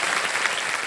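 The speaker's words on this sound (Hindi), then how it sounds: "तालियां बज जाए हमारे कर्नल वेम्बू शंकर।" A television quiz show studio audience breaks into steady applause, a dense, even roar of many clapping hands that fills the whole moment.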